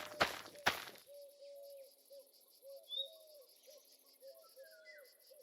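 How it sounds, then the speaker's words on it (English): Soft cooing bird calls like a white-winged dove sound from a video game, repeated in short phrases over a quiet background of insects and chirps, after two sharp clicks at the start. "feel like I heard a white-winged dove call"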